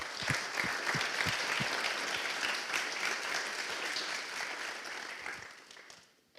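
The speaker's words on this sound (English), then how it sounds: "let's give a round of applause for that" Conference audience in an auditorium at PyCon Greece applauding together, a few distinct claps at first building into sustained clapping that tapers off and stops near the end.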